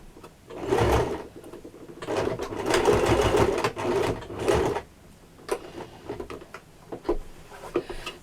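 A sewing machine stitches a tab onto an apron in several bursts of rapid, close mechanical whirring, separated by short pauses with small handling clicks and rustles.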